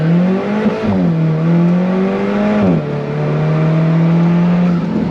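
A 2015 Alfa Romeo 4C Spider launches under launch control, its engine pulling hard and loud in rising sweeps broken by two quick shifts of the six-speed dual-clutch gearbox, close and with no talk.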